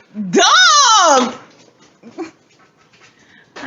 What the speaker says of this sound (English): Shit! Dog!